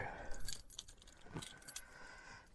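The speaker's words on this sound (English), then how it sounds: "I've got my keys in my pocket under some other keys, so this could take a moment." Keys jangle as they are dug out of a pocket, a bunch tangled with other keys, near and fairly quiet, with a busy metallic rattle in brief bursts.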